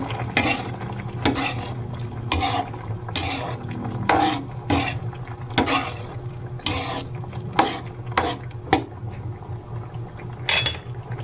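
Squid adobo stirred in a pan: rhythmic metal utensil scrapes and clinks against the pan at a steady pace over a low simmering sizzle, close up without speech.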